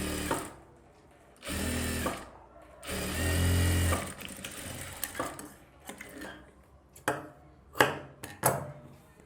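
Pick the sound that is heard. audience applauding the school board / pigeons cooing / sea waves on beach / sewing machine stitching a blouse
sewing machine stitching a blouse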